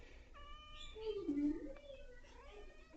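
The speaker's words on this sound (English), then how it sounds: "I just want to figure out where all the kittens are." Kittens meow in a few thin, high, faint cries indoors, one louder wavering call in the middle, against a quiet room hum.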